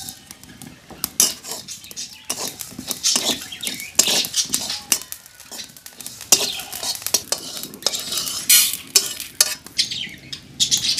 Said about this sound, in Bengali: প্রথমে আমি কাঠফোড়ায় পাঁচফোড়নটাকে ভেজে নেব